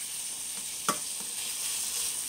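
Shrimp frying in a pan hiss with a steady, fairly quiet sizzle, broken once by a brief clack as they are stirred.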